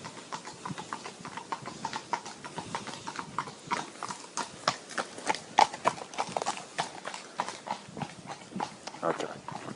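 Horses' hooves clip-clop in a steady, rhythmic stream of light knocks, moderately close, running under continuous conversation.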